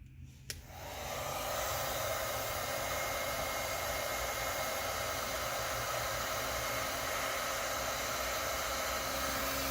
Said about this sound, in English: I've got an old school heat gun. Black & Decker Heatworks.